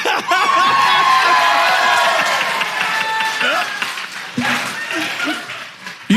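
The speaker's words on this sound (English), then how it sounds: "And now it's time for clapping." A live comedy show audience claps and cheers in a sustained burst, with laughter and voices mixed into the crowd noise, fading near the end.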